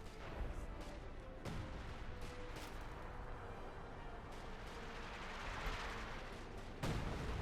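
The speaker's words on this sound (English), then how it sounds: "So Tomakaze is certainly suffering there to Fortune's howitzer" Howitzer artillery booms in a Company of Heroes 2 battle, heavy thudding blasts over a dense, continuous rumble of combat and explosions, with another strong impact near the end.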